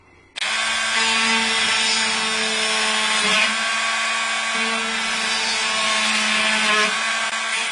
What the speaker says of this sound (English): And drill.